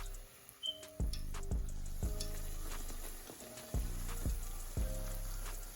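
Tortilla shells frying in oil in a home kitchen make a soft, steady crackling sizzle, broken by several sharp metallic taps and clinks of a utensil against the pan at uneven intervals.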